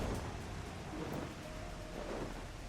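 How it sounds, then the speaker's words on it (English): Steady rain hiss fills the scene in Final Fantasy XIV, a dense, even wash of falling water with faint low rumbles, continuous and without any voices. "Wow, it's raining here."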